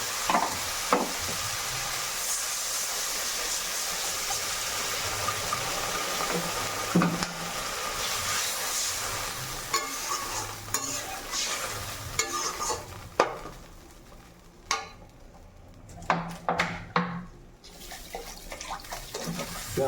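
Spicy masala paste is stir-fried in a pan, with continuous sizzling and repeated scraping and clattering strokes of the spoon that grow more distinct toward the end.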